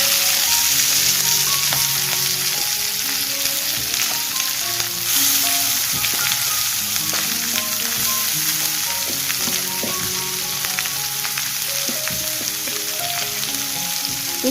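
Spinach frying in a pan with garlic and dried red chili gives a steady, close sizzle throughout, with occasional soft scrapes and clinks of stirring over the constant crackle.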